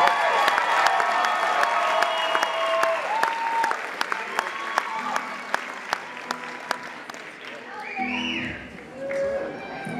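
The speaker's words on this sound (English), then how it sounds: "Give her a bigger round of applause," A live concert crowd at a small vineyard venue claps and cheers, with whistles and shouts over steady applause that gradually fades as a voice begins talking near the end.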